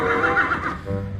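A toy zebra plays a recorded horse neigh, a short, loud, wavering whinny that fills the whole moment, with no talk over it.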